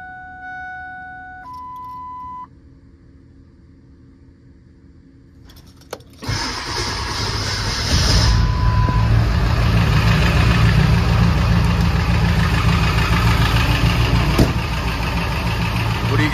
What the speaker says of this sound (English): I've made plenty of videos of this thing starting.